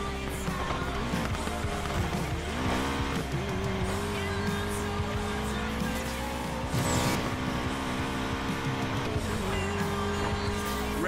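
Cars race in Need for Speed Payback with a loud, steady engine roar and droning revs throughout, tires squealing and skidding now and then in a dense, continuous mix.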